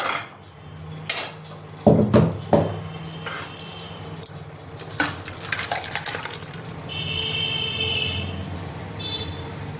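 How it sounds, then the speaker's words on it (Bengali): Dal dhokli being ladled from a pot into a bowl, with several clinks and scrapes of a spoon against metal and dishes, a few close bursts of clatter, then a steadier soft rustling toward the end. "এখানে আমি ডাল ঢোকনিটা একটা বাটিতে রেখে নেব।"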